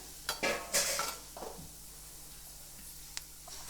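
Chopped onion being stirred by hand into a quarter kilo of gram flour (besan) batter for onion bhaji, giving a few soft, wet clicks and scrapes early on, then near silence.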